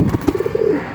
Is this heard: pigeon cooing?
yes